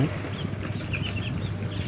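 Chickens on a poultry farm cluck and murmur in a brief, steady chorus, close by, with soft rustling underneath and no talk.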